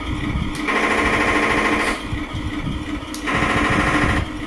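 A Tiger I tank engine simulated by an RC tank sound unit, a loud, close, rough rumbling drone that surges to higher revs twice in the short stretch, with no voices.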